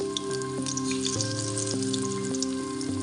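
Eggplant pakoras in a gram flour batter with ginger, green chilli and cumin sizzle steadily in hot oil, a constant close crackle with no talking.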